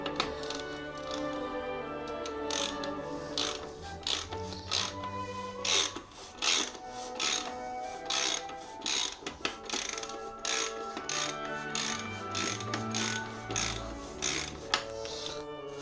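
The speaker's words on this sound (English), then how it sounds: "switch to a ratchet." Ratchet wrench turning on the rusty bottom bracket of a 1998 GT Tequesta bicycle, making close, crisp rapid clicking in repeated bursts with short pauses between strokes.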